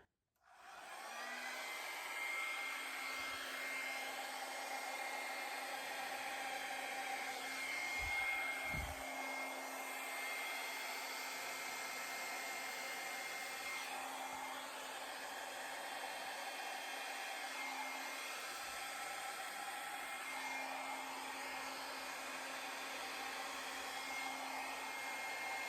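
A hair dryer on its low setting blows across wet acrylic paint, a steady close whirring hum that runs almost unbroken, with a few faint handling knocks and no talk.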